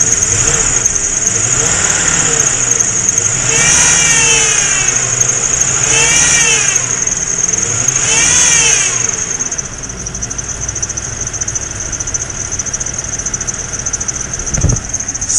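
BMW engine idling just after a cold start at minus four degrees, its steady running overlaid by a high, persistent whine with wavering pitch sweeps, while someone talks over it.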